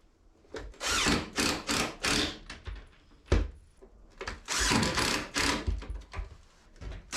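A power drill bores pocket holes in wood for van bench seats, in a series of loud, whirring bursts of a second or so each, separated by short pauses.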